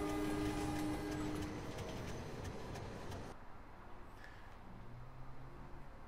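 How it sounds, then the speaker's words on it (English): A train pulling out of the time station in the video game MediEvil, with a loud, dense rumble of rolling machinery that drops abruptly to a quieter steady hum about halfway through. "let us take this train out of the time station"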